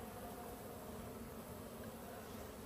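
Bees feeding outdoors produce a faint, steady buzzing hum that continues evenly throughout, quiet and without breaks.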